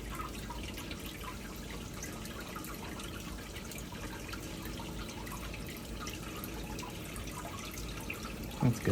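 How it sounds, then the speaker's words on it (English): Water drains steadily from a removed aquarium filter, a continuous soft trickle and drip held at a fairly even level throughout, with a brief louder clunk near the end. "I'm just letting it drain."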